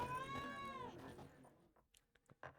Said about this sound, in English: Quit hissing at me, cat.